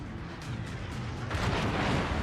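Naval guns firing in World of Warships, a heavy rumbling barrage of muffled booms rolling continuously and swelling louder toward the end.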